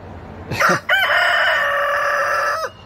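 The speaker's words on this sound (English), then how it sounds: "That's my rooster." A backyard rooster crows once, loud and near, in a long, drawn-out cock-a-doodle-doo that holds steady before cutting off, with no talking over it.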